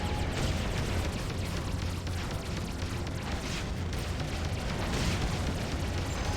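Explosions from a space combat game, with exploding ships giving off a dense, continuous roar of blasts and rumbling debris that stays loud throughout, with no voice over it.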